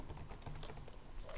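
Rapid, steady keystrokes on a computer keyboard as a file name is typed, a close, continuous patter of light taps with no talking.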